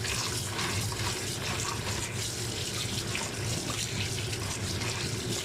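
Tap water runs continuously into a sink while soup ingredients are rinsed in a strainer, producing a steady, close splashing rush that never stops.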